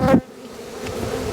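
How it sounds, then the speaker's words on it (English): Honeybees swarm thickly over a brood frame pulled from a hive in an Australian bee yard, a steady low buzzing that runs continuously close by after a brief louder burst at the start. "Lots of bees"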